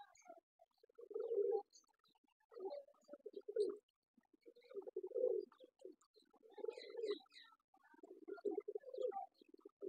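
Pigeons cooing in a backyard loft, a prized breeding pair among them, with repeated soft low rolling coos in phrases every second or two, close and clear, and a few faint chirps above.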